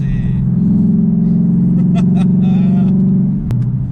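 A loud, close Ford Mustang engine drones and revs steadily for several seconds, then a sharp click as the tone drops to a lower idle.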